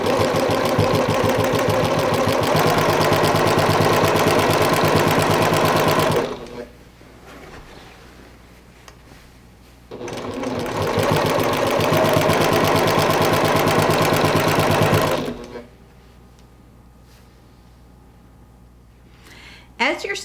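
A sewing machine stitches through a quilt in two long loud runs of rapid, steady mechanical whirring, each broken off by a quiet pause, with no one talking.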